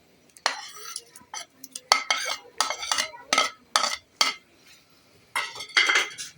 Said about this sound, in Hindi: मिक्स कर लेंगे अच्छे तरीके से।